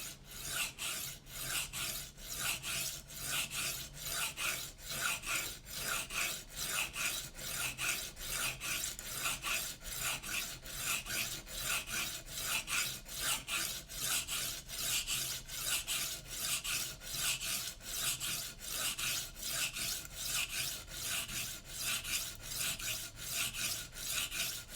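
A Shun kitchen knife is sharpened by hand on a whetstone with long heel-to-tip strokes. The steady back-and-forth rasping keeps a regular rhythm, close and fairly quiet, and goes on throughout.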